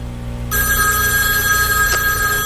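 A telephone bell starts ringing abruptly after a half-second of low hum, a loud continuous electronic trill that carries on to the end, alone with no talking.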